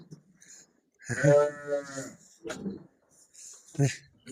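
A young lamb bleating near a man examining sheep on a Kazakh farm, two or three wavering bleats, the longest one loud and close, with quiet talk around them.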